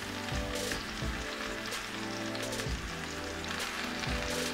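Aubergine pieces sizzle loudly in hot olive oil in a pan, a steady dense crackle with bursts of spitting as they hit the fat, no voices over it.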